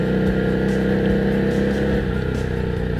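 An FKM Victorino 250i scrambler motorcycle with a 5-speed gearbox rides at around 30, its engine droning steadily and loud with a constant low hum throughout.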